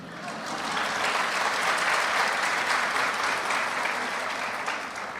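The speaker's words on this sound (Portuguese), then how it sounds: "Estamos aplaudindo Jesus neste exemplo de testemunho que ele nos traz" A seated audience at a spiritual lecture claps together in a steady, moderately loud wash of applause lasting a few seconds, with no voices over it.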